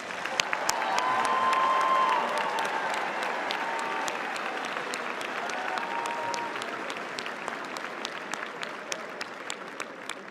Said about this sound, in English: please stand and receive our well-deserved applause